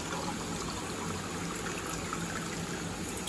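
Cold water, about 500 milliliters or more, poured from a container into a bucket for mixing plaster, a steady splashing stream running continuously and close up throughout.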